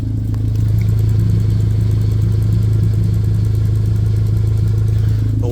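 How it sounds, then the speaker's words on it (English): A 2017 Lexus IS 200t runs with a steady, loud, low engine drone, a rapid fine ticking pulsing through it from underneath the car. "I don't know if you can hear this ticking noise"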